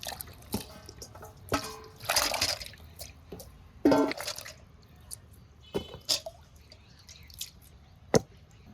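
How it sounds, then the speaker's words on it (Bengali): Pieces of eggplant, tomato and ginger are washed together in a bowl of water, with scattered splashes, drips and sloshing handling sounds in short irregular bursts, close by and fairly quiet. "এগুলো একসাথে পরিষ্কার করে ধুয়ে নিই"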